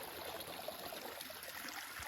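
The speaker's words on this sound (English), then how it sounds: "You can see it kind of trickling down right there." Quiet river water trickling over rocks beside a canyon hiking trail, a soft steady wash and gurgle close by with no talking.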